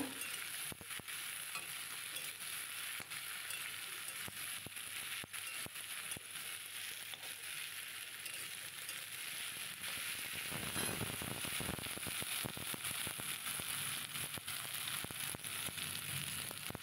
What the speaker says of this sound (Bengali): এবার লতিগুলো পেঁয়াজের মধ্যে দিয়ে দিলাম। এবার একটু নেড়ে নেব।